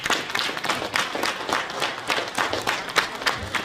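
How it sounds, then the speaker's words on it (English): An audience at a mayoral candidates forum held at a police lodge in Birmingham applauds, a moderate, steady patter of clapping from a modest crowd with faint murmuring beneath. "let's give them all a big round of applause"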